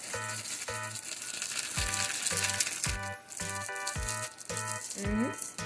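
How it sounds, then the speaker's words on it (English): Coated snapper pieces shaken hard in a bag of flour and cornstarch, about ten rapid rattling shakes in an even rhythm, close and fairly loud, with no speech. "Now I shake the flour inside."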